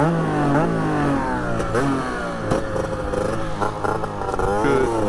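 A motorcycle engine revs up and down in steady surges, close and loud, with a rough mechanical clatter underneath.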